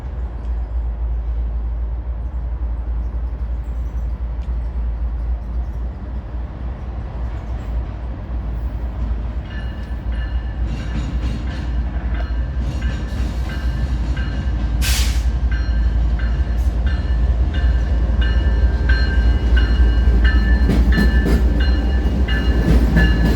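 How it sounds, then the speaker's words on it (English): Norfolk Southern freight train NS 283 passes with BNSF 992 in the H1 paint scheme trailing second in the lashup, a loud continuous rumble of locomotives and rolling cars with rising squeal and metallic clatter. "NS 283 would come south soon after with BNSF 992 in the H1 paint scheme, trailing second in the lashup."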